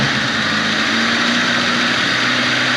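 A car engine rebuilt by students runs steadily at idle, giving a continuous broadband rumble with a low hum and no talk.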